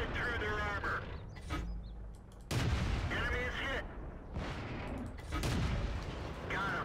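Repeated tank cannon shots in World of Tanks, several loud broadband blasts in quick succession with a steady battle ambience and engine rumble underneath.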